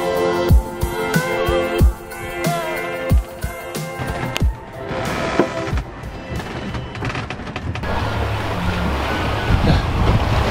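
Atlantic Ocean waves around a sailboat during an ocean crossing: sharp slaps and thuds of water against the hull in an irregular rhythm, close and loud, giving way to a steady broad wash of surf.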